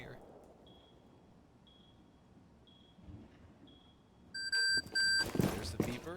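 An electronic gadget beeper in Rainbow Six Siege chirps in four evenly spaced short beeps, then louder tonal beeps arrive near the end over game noise and a commentator's voice.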